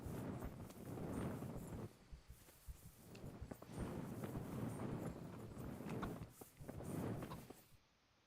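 Horse hooves clip-clop on a path in the medieval video game Kingdom Come: Deliverance, a run of soft, fairly close steps in uneven bursts over a windy outdoor background, with no talking.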